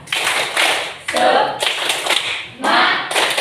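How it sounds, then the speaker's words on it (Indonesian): A group claps a rhythmic 'tepuk semangat' cheer in tight unison, loud bursts of clapping grouped in repeating patterns separated by brief gaps, up close with no talk over it. "mulai dengan tepuk semangat"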